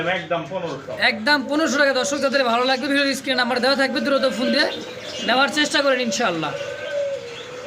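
Caged pigeons for sale, racer, beauty homer and tumbler breeds, coo steadily beneath loud, continuous men's conversation close by.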